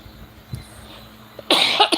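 One person lets out a few harsh coughs close by, first a single small cough and then a louder cluster of two or three near the end, with quiet between them.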